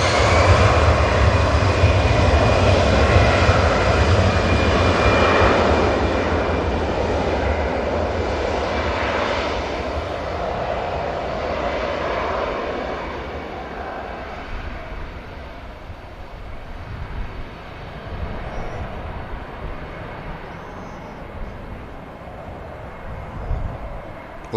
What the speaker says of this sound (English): Lufty might use a bit of runway, but it's taking the intersection.